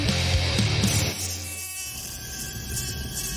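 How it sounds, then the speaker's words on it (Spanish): A mosquito buzzes steadily in a video game, a thin droning whine that holds for about three seconds, louder at first and then settling to an even hum, with no voices. "¿Es ese mosquito?"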